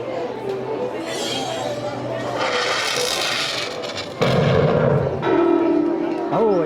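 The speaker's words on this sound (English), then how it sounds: "it shot a cannon and hit the bell well way over there" Cannon blast and a struck bell in a Disney pirates adventure game at Magic Kingdom, a loud boom followed by bright ringing amid a noisy crowd and park background, with people talking around it.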